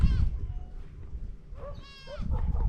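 Goats at a park in Colombia bleat from close range, one short cry at the start and a longer wavering bleat near the end, over background rustling and low murmur.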